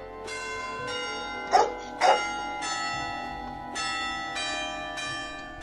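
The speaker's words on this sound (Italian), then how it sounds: "E il curato la domenica che suona le campane a festa." Church bells ring in a repeating festive peal on a Sunday in Aspromonte, Calabria, with long resonant tones overlapping at a moderate distance, and two sharp barks from a dog partway through.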